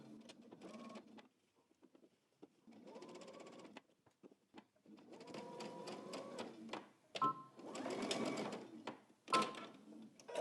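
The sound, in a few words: sewing machine back-stitching a jacket pocket bag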